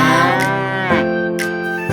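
A cow moos in long, loud, close, tonal lowing calls, broken by short breaths, in a farm nursery song setting with no talk.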